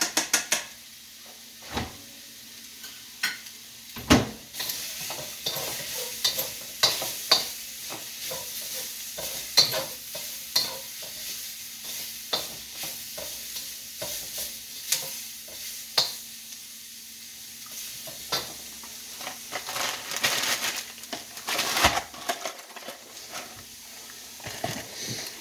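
Vegetables stir-fry in a hot pan stirred with chopsticks, a steady soft sizzle broken by frequent knocks and clacks against the pan, some sharp and loud, others light and rapid.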